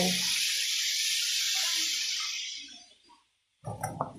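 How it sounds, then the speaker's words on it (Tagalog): Water pours steadily into a pan with a rushing hiss, then tapers off and stops, followed by a brief clatter of cookware. "lagyan natin ng kaunting tubig para sa ating sabaw"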